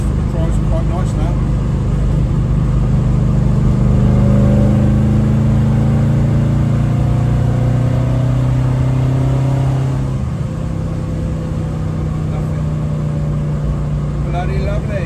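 A Ford Zephyr Mk3 drives along after a propshaft repair, its engine droning loudly and steadily from inside the car, with rising and falling pitch as it accelerates and shifts and a voice talking over it.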